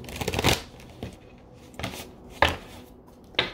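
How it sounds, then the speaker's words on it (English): A deck of cards is shuffled for an I Ching reading in a quiet room, in several short riffling bursts separated by pauses, with one more brief shuffle at the end. "One shuffle."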